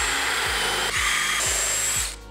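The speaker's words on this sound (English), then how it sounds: "drill your holes where you want your mounting screws to go." A power drill bores holes in wooden drawer fronts, loud and close, its motor whine broken into four rhythmic surges as the bit bites and releases before spinning down at the end.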